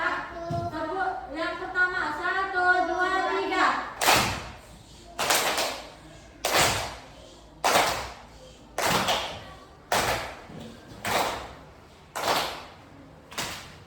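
Children clap in unison in a clap-and-pause game, eight sharp group claps spaced evenly with silent pauses between them, after a stretch of voices talking.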